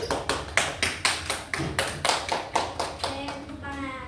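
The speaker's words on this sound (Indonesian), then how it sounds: "tepuk tangan" Classroom applause with a group clapping in quick, even beats that fade and end, followed by a brief murmur of voices.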